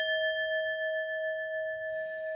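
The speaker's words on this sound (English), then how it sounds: "Here's the bell." A single bell tone rings out clear and sustained, a pure ringing note that holds steadily and slowly decays, with a faint hiss entering toward the end and no talking.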